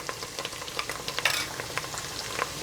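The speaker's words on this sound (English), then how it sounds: "the onions have had around 10 minutes of frying here" Steady crackling sizzle of onions frying in a pan with ginger and garlic, with scattered sharp pops and spits over a constant hiss, fairly close.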